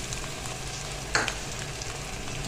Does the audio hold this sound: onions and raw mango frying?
yes